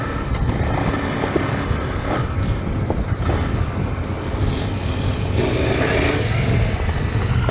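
A Honda Africa Twin and a KTM 1090 Adventure R ride into a shooting complex partly off-road, their engines a dense, steady roar with gravelly scraping and wind noise.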